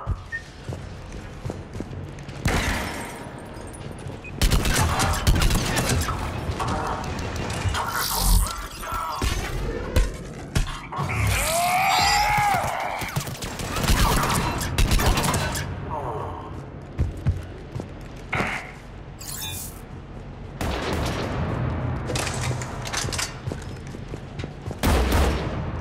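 Bursts of weapon fire in the sci-fi shooter game Mass Effect 3, loud irregular volleys with crashes and impacts spread across the clip, a voice speaking between the shots.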